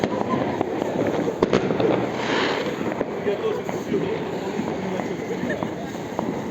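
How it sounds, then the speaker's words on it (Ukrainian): New Year's night fireworks crackle and pop continuously in the distance outdoors, a dense wash of small bursts with wind noise on the microphone and no speech. "Я хотіла зняти салют"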